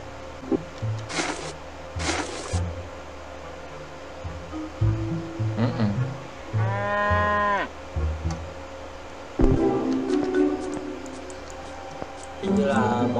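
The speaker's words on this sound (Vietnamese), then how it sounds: "Hình như là bò đã hết thức ăn rồi." A cow in the Dark Riddle 2 video game lets out drawn-out moos amid game effects and sweeping tones, heard in short bursts with someone talking over parts of it.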